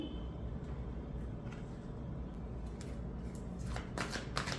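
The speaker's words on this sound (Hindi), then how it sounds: "आप लोगों ने जो कार्ड चुना है उसे मैं साइड में रख देती हूँ और आप लोगों के टैरो कार्ड्स जो है वो ले लेती हूँ।" Tarot cards being handled and shuffled: soft, close riffling and sliding with scattered light flicks and snaps over a low background rumble, busier toward the end, no talking.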